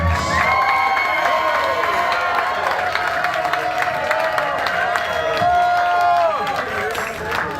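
Live show audience claps and cheers for the band, loud sustained applause mixed with whoops and shouts, with voices calling out over the crowd throughout.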